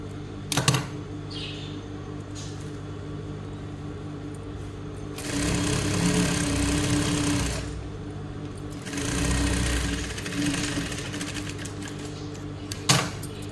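Sewing machine running in two sustained bursts of stitching over fabric, laying one seam on top of another, with a steady motor hum between, close and moderately loud with no talking.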